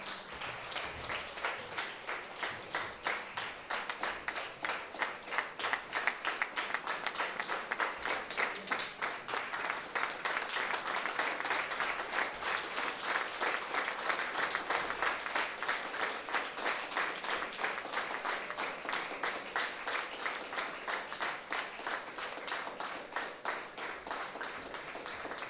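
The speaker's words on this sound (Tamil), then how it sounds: "உங்களுடைய கரகோஷங்களுக்கு மத்தியில்" An audience at a Jaffna Hindu College debate event claps in sustained, dense applause. The steady, even clapping stays at a constant level for about 25 seconds during a prize presentation.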